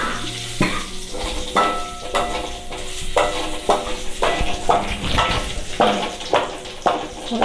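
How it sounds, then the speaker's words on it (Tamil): Curry leaves are stirred in a hot frying pan while making rasam, with loud sizzling frying and repeated scraping strokes of a spoon against the pan, close and steady with rhythmic bursts. "ஒரு கொத்து கருவேப்பிலை போட்டு நல்லா கிண்டிக்கலாம்."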